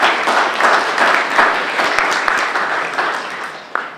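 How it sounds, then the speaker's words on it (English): An audience at a small business marketing conference applauds the volunteer committee members, steady dense clapping from many hands that holds for about four seconds, with a brief sharper burst near the end. "let's just give them a round of applause"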